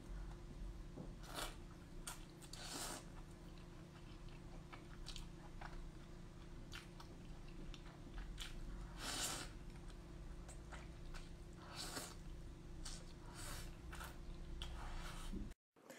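Someone chews a 40-centimetre grape-flavoured gummy candy strip, producing steady close-up soft bites and squishy mastication sounds repeating throughout without talking.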